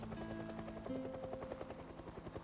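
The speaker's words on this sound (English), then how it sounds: "Okay, that's the helicopter." Helicopter approaching in the zombie survival game Project Zomboid, a steady rhythmic rotor chop with a droning engine tone that stays loud and continuous throughout, with no talk.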